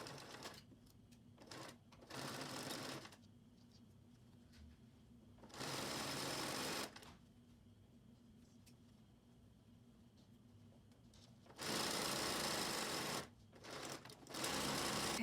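A sewing machine stitches elastic onto a fabric face mask in several loud, steady whirring bursts separated by quiet pauses, close and with no talking.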